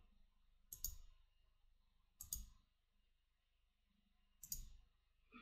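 A computer mouse clicking while selecting points in CAD software, three faint, separate clicks spaced a couple of seconds apart against a quiet room, with no talking.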